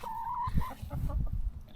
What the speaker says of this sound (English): It's our rooster.